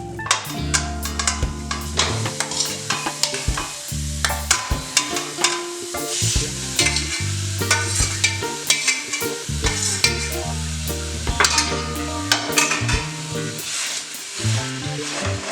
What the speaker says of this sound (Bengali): ছানাটাকে এই লোয়েস্ট ফ্লেমে 15 থেকে 20 মিনিট আপনাকে কুক করতে হবে।